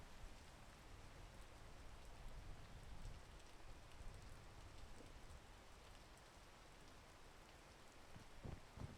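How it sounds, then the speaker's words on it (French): Soft, steady rain in the video game PEAK patters continuously, a faint hiss of drops falling on surfaces with a few louder taps near the end. "Moi, je me sens sous la pluie, là, comme par hasard"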